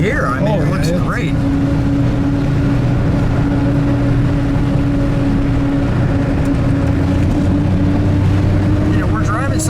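A 1936 Bentley Derby 4¼ Litre rolls along the road at a steady cruise, its engine drone and road rumble continuous from start to finish, with people talking inside the car over the sound.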